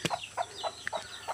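Chicken clucking close by at a mountain home, a quick rhythmic series of about six short agitated clucks over little more than a second, clear and moderately quiet with no talk.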